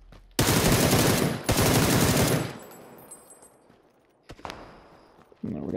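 Automatic gunfire in the PUBG battle royale game rips out in two long, loud bursts, followed by a few sharp isolated shots and another burst starting at the end, with quieter movement between.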